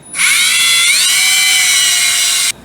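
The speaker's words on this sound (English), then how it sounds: "All right, drill it right there, I guess." A power drill whines at high speed while boring a hole during work on a 1965 C10 pickup, a loud, close, sustained tone that slowly dips in pitch, then cuts off sharply after about two and a half seconds.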